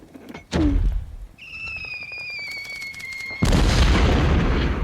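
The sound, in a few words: mortar strike explosion, tabletop battle sound effect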